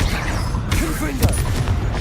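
Confringo fire spell going off in Hogwarts Legacy, booming blasts and crackles with a couple of sharp hits, over a busy game background with a voice briefly audible.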